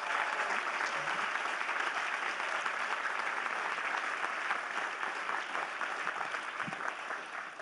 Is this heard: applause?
yes